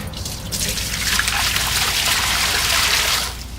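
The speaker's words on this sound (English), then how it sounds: "This is 3 liters, and we will use more water" Water pours steadily into a homemade hydroponic container, a continuous bright splashing trickle that holds for a few seconds and then stops abruptly. No one talks.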